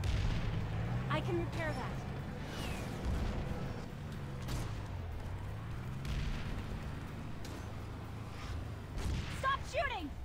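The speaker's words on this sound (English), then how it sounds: "Stop shooting! Same team!" Video game gunfire from Planetside 2 rumbles and booms under a running vehicle engine hum, with sharp shots near the end, while a player talks over the action.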